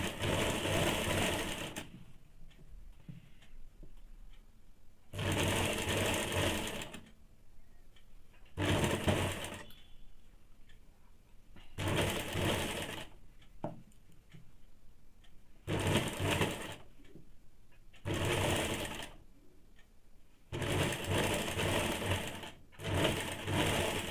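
Sewing machine stitches a neck strip onto a high-neck blouse in a half-inch seam, a close, loud mechanical whir that starts and stops in about eight separate bursts, with quiet pauses between the runs.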